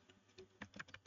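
A short burst of soft keystrokes on a PC keyboard typing into the Windows search bar, several quick faint clicks, with no talking.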